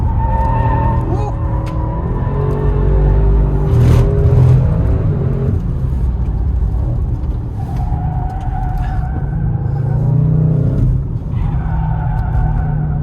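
Race cars, including an RS6, lapping a track on timed runs, a loud continuous engine roar with shifting pitch and tire noise, close and steady throughout.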